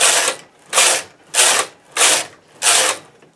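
A knitting machine carriage knits five rows, each pass a loud rasping whoosh of needles lasting about half a second, repeating five times in an even back-and-forth rhythm with brief gaps, close by.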